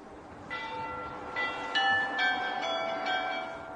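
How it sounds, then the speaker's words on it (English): Church bells of the golden-domed St. Michael's cathedral in Kyiv ring out in several distinct strikes whose tones overlap and linger, heard at a distance over a low background rumble. "The bells ringing out from the golden-domed cathedral named after St. Michael, appropriately enough, the protector of Kiev."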